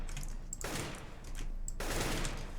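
Gunfire from shooting bots in the video game CS:GO, two loud bursts of rapid shots with a brief quiet gap between them, with no talking.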